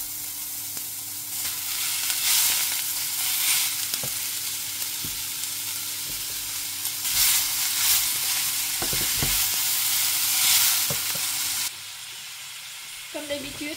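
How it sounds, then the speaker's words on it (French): Sliced courgettes sizzle and crackle loudly in a frying pan with garlic, a steady frying hiss with scattered pops and stirring clatter, ending abruptly as the heat quietens. "Ensuite, je verse les courgettes."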